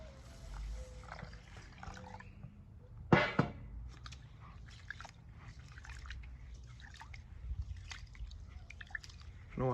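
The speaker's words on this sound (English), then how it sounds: "I'm gonna wash this rice about 3 times" Rice washed by hand in a bowl of water: soft sloshing and trickling close by, quiet throughout, with one brief louder splash partway through.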